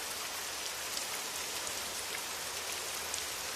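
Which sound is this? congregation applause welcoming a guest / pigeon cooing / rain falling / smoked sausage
rain falling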